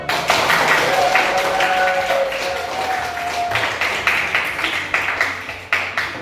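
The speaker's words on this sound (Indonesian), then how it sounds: "Ya, tepuk tangan." High school students clap in a classroom, a lively round of applause with a voice calling out near the start, gradually thinning into individual, distinct claps near the end.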